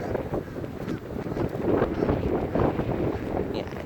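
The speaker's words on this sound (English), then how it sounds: "Yeah, it is windy" Strong wind gusting at about 25 miles an hour on a sunny, hot day, buffeting the microphone with loud, rough, low rumbling that swells and eases throughout.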